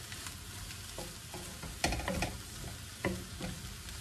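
Leftover lechon chunks and onion frying in a pan, a steady sizzle punctuated by scraping stirs and clinks of the utensil, close and alone without talk.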